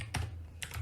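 Computer keyboard typing while entering JavaScript code, heard as two short bursts of clustered key clicks separated by a brief pause, close and fairly quiet with no voices.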